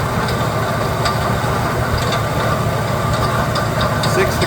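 A 1966 Ford Custom engine idles steadily at about 800 RPM, a close, continuous low rumble with a faint rhythmic knock and no talking.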